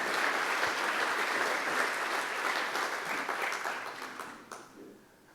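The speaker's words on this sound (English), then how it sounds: "So let's give a big round of applause." Dense, steady applause from a summit audience honoring event sponsors at a global supply chain conference, holding strong for several seconds before tapering off into scattered claps.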